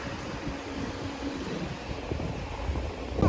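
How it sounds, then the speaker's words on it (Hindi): Strong wind blows across a lake used for boating, a loud, continuous broadband rush buffeting the microphone with shifting gusts and no voices over it. "बहुत तेज हवा चल रही है यहाँ पे, हवा देख सकते हो, इतनी तेज हवा चल रही है।"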